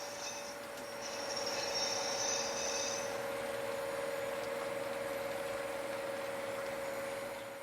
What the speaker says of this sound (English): That's a long train, a long passenger train.